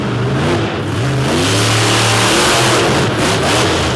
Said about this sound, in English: Turner unleashing the power of that 557 cubic inch Oldsmobile power plant